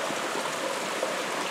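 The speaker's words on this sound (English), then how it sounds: "It's all fresh flowing water, man." A fresh mountain stream in the Sierra flows steadily nearby, giving a brief, even rushing wash of water with no voices.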